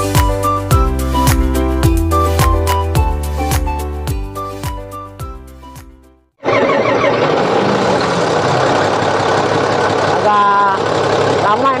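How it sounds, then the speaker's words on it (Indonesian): Music with clear tonal notes fades out, then a Komatsu SAA6D140E-5 diesel engine abruptly kicks in and settles into a loud, rough, rumbling low idle. "suara mesin low idle untuk 140 memang begini"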